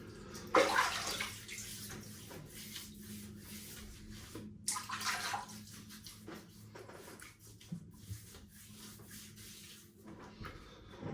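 Hot water runs from a tap and splashes over skin in a bathroom sink before shaving, a steady broadband wash with louder bursts early and midway, then quieter trickling and small knocks near the end.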